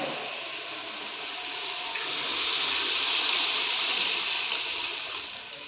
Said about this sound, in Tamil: இப்போ நம்ம அதில் புளிஞ்சதை சேர்த்துக்கலாம்.